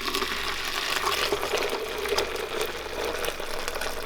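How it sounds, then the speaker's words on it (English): Just-boiled water poured from a kettle over mosquito bits in a container, a steady close splashing gush lasting the whole moment, with no talk. "And then I just pour in some water that I just boiled."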